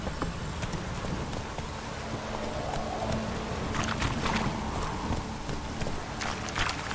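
Roach, the horse in The Witcher 3, galloping with steady fast hoofbeats over a dense rushing game ambience, loud and continuous throughout.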